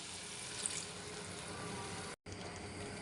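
Water pours steadily into a pan of carrots and green beans for pansit canton, a continuous hissing splash over the sizzle of cooking with a brief break near the end.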